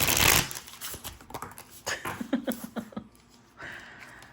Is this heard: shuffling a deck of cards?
yes